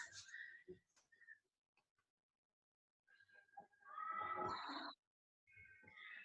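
A cat meows indoors in a few short, separate calls with quiet gaps between them, the sound soft and close, and some faint human vocal sounds mixed in.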